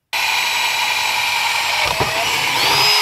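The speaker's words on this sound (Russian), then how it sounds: "нам надо ее высверливать отсюда" A small drill whines steadily at high pitch, close up, drilling out a component on a graphics card circuit board, with a brief dip in tone as it bites in.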